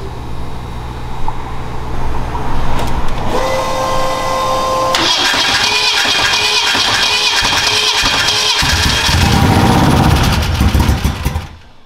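A fuel-flooded engine on a fast SS clone car runs loudly up close, a rough, steady idle with tonal whine layers shifting partway through and an uneven rumble underneath.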